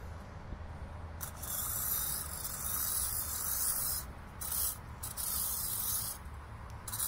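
Liqui Moly throttle body cleaner sprays from an aerosol can onto a car's throttle body in repeated hissing bursts of about a second each, close and moderately loud over a low background rumble.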